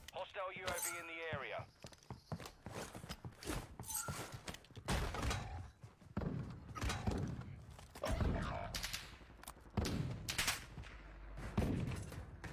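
Video game gunfire, scattered bursts and single shots with some rapid volleys, heard under and between frequent excited voice chat from several players.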